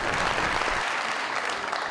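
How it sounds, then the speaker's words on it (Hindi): Steady, dense applause from a television talk show studio audience fills the whole moment, loud and continuous without a break. "बहुत सारी तालियों में।"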